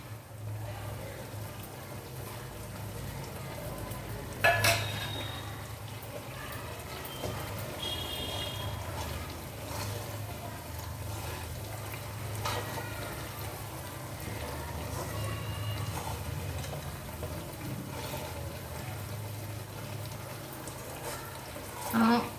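Chicken frying with curry leaves in oil for a chicken pickle, a steady soft sizzle running throughout with a few clinks of a utensil against the pan, under light talk.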